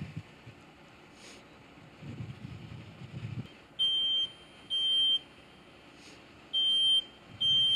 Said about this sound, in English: Smoke detector is already going off in the room.